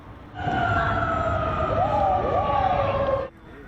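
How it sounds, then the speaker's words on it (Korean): Fire engine and ambulance sirens converge on a burning high-rise apartment in Seoul's Songpa district, wailing loud and close with rising and falling tones for about three seconds before cutting off. "소방차와 구급차들이 요란한 사이렌 소리를 내며 줄지어 모여듭니다"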